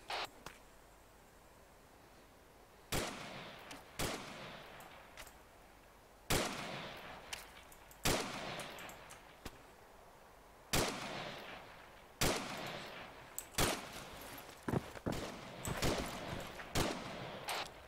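Sharp video game gunshots crack out in irregular bursts, some single and some in quick clusters, each leaving a short echoing tail, with quiet gaps between.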